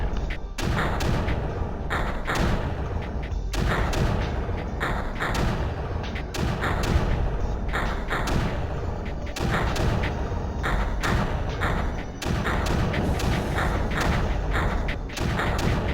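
Mortars fire repeatedly in the video game Creeper World, a dense, rapid series of deep thumps and booms layered over a constant loud backdrop, evenly spaced and ongoing throughout.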